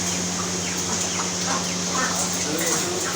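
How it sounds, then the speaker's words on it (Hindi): A big turkey gobbles amid clucking fowl, bursts of throaty bird calls over a steady electrical hum, with other poultry chattering close by. "बहुत बड़ी टर्की है जी"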